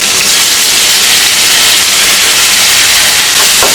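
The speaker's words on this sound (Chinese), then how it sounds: "给它炒香。" Ginger, garlic and chili sauce stir-fry in hot oil in a wok, a loud, constant hiss and sizzle close up with no talking.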